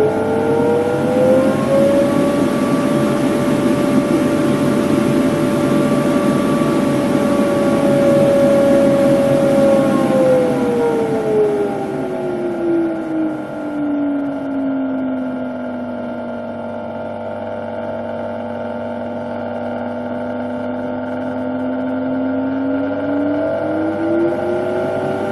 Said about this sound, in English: You can hear that pulsing, that cogging. Wind it up, but the speed's dropped back a lot.